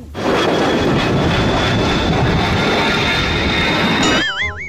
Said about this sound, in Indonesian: itu ada pesawat, Mon.